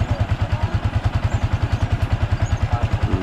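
A motorcycle engine runs steadily close by with a fast, even low-pitched pulsing and a light mechanical clatter, the bike just back to normal after overheating, a minor engine noise still present.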